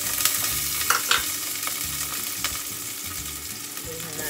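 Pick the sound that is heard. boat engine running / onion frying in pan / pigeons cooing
onion frying in pan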